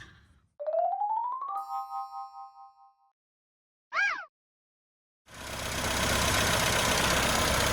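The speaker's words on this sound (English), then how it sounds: "So we've got the engine running." A classic Mini car engine with a freshly worked-on carburettor settles into a steady, close idle. Its continuous rumble follows a few bright electronic chimes and beeps.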